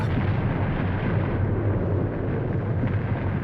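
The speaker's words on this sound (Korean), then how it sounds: "백두산이 폭발한 것이다" Volcanic eruption explosion effect for Mount Paektu: a loud, deep, continuous roaring rumble heavy in the low end, sustained without breaks and with no voices.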